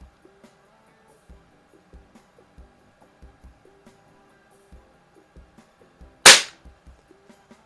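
A Barra model 900 air rifle fires a single sharp, loud shot over a chronograph, standing alone against a quiet background of faint ticks and low room noise.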